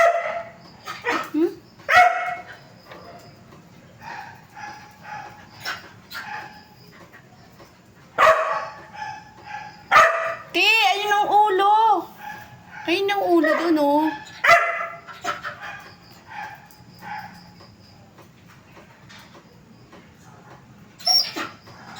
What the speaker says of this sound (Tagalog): Tahol siya ng tahol.